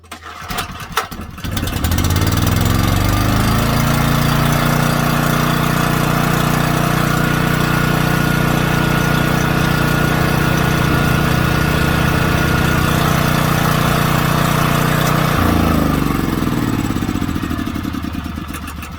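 A gas generator engine cranks with a few rough sputters, then catches and runs steadily on choke at a loud, even idle, close by, for about thirteen seconds before cutting off and winding down.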